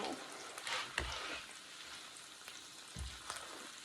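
Sliced onions cook low and slow in a pan, giving a soft, steady sizzle and crackle with a few louder pops and stirring scrapes, heard up close with no talking.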